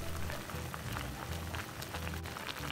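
Water boils in a saucepan while chrysanthemum leaves cook, a steady dense bubbling hiss with a low rumble, fairly quiet and unbroken throughout.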